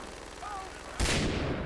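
A single sharp gunshot in Far Cry 3 cracks out near the end, loud and abrupt, after a brief quiet stretch.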